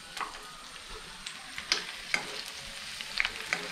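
Butterfly chicken fries in oil as an evening snack, a soft continuous sizzle scattered with sharp little spits and crackles, close and without voices.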